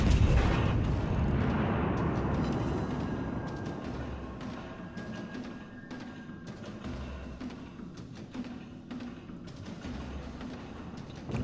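Warship guns fire in World of Warships: a loud, heavy boom opens the moment, then a long rumbling decay carries on under continuous low battle noise, with scattered sharper hits.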